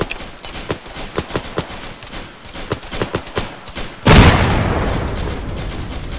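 A frag grenade thrown and exploding in a video game set in a Vietnam-era special operation: one loud, close blast with a long rumbling tail follows a stretch of sharp clicks and thumps.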